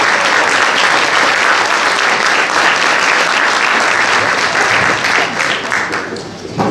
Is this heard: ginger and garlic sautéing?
no